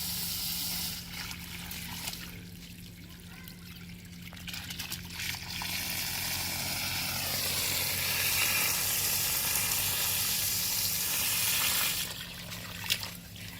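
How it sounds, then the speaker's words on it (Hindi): Running tap water rinses clay soil off the roots of a bay leaf plant, a broad steady splashing and trickling that swells loudest mid-way, then eases and briefly returns, with no talking. "तो चलिए पानी से एक बार इसको धो देते हैं।"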